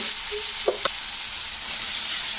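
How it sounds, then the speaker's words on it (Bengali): Eggplant being stirred into a spiced, melted tomato mixture in a pan: a steady frying hiss with two quick clinks of the utensil early on, close and with no speech. "এবারে আমি বেগুনটাকে এর মধ্যে দিয়ে দেব"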